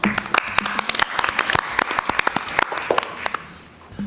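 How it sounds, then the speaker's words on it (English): A small group claps for several seconds at a board of directors meeting, an uneven patter of hands that gradually thins out and fades. "Let's give them all a round of applause."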